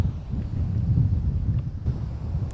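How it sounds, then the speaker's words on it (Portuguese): Strong wind on a beach in Ceará rumbles steadily against the microphone, a continuous low buffeting roar with gusty swells and no voices. "O vento também aqui é intenso"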